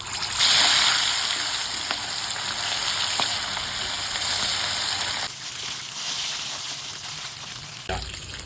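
Fish pieces rubbed with salt, turmeric and chilli sizzle loudly in hot oil, a steady bright crackle that eases slightly partway through, with a brief clatter near the end.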